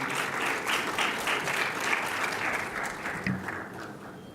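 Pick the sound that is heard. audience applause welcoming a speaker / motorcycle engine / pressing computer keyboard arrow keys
audience applause welcoming a speaker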